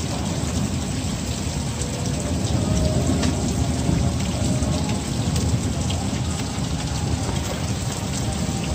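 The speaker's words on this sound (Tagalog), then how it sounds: "May ulan po." Steady, heavy rain from a sudden midday rainstorm with lightning pours down continuously, with a dense hiss and a low rumbling undertone, loud and enveloping.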